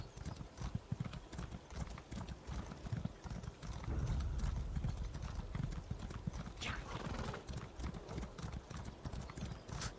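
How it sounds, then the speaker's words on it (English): Galloping horse hooves in a video game, a fast rapid clip-clop rhythm held for the full stretch, fairly close and steady, with a brief whinny partway through and quiet talk in the background. "Horses out of stamina."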